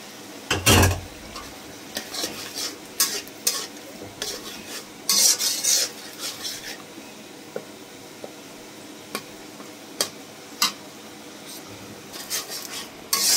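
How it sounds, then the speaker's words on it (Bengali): Spice paste and tomato being stirred and fried in a pan for a poa fish curry, with repeated scraping of a spatula against metal and a soft, steady sizzle underneath, close and moderately loud. "পোয়া মাছের মশলাটা একটু ভালো করে কষাতে হবে। একটা টমেটো দিয়ে দিলাম।"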